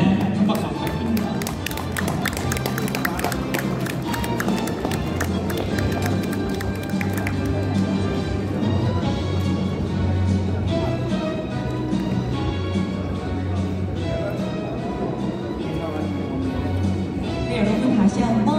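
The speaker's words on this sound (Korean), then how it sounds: "네, 한 박수 부탁드립니다." Audience clapping at a Cheongju High School centennial history book launch and year-end gathering, a steady, dense wash of many hands applauding without pause, with music playing underneath.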